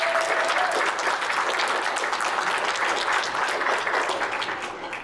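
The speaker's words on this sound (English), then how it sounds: "Let's give them a round of applause" A conference audience claps in a sustained round of applause at a community preparedness symposium, dense and even for several seconds before slowly tapering off.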